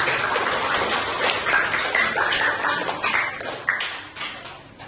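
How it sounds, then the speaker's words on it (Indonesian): A class clapping hands for a student group during a school lesson, a brisk dense patter of many hands that stays loud and then tapers off toward the end. "kita kasih tepuk tangan dulu untuk kelompok nanti"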